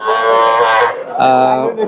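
A cow at a cattle market moos loudly nearby in two long, drawn-out calls with a brief break between them.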